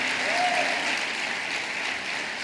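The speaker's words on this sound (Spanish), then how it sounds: "Vamos, aplauda eso." A church congregation claps during a sermon, a brief wash of dense applause that swells and then gradually fades.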